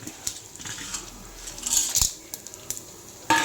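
Chana dal and dried chilies are stirred in a pan, with scattered metallic scrapes and clinks of a spoon against the pan and a faint, light sizzle beneath.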